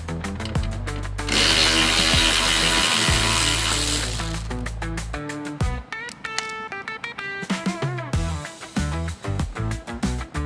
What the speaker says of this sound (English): I'm gonna take off the screw right here.